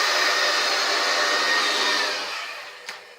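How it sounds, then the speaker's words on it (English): A blow dryer styling hair, used with a vent brush, roars steadily and loudly for most of the stretch, then fades away near the end with a brief small click. "I took a vent brush and the blow dryer, and I just kind of smoothed it out a little bit"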